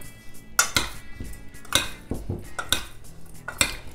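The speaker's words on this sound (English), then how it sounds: "I'm going to give it another good stir" A utensil stirs Caprese salad ingredients in a bowl, giving a series of close, sharp clinks and scrapes in an irregular rhythm, with no talking.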